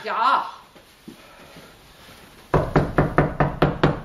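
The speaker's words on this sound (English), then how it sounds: "You must knock loud so they can hear you." Loud knocking on a door, a quick run of about eight sharp raps in the final second and a half, following a stretch of talk and quieter sounds.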